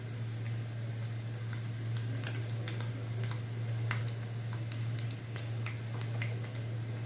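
Fenugreek and mustard seeds crackle in hot coconut oil, scattered sharp pops over a steady low hum, faint and irregular with no talking.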